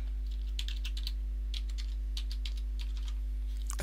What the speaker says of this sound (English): Then I need to put my password in